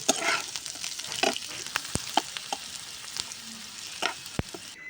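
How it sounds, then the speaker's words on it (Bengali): Chopped onions frying in a pan for a pointed gourd mash, with a steady sizzle broken by sharp clicks of a spatula scraping and stirring; no voices. "পেঁয়াজ কুচিটা দিয়ে খুব ভালোভাবে এই সব কিছু ভেজে নেব"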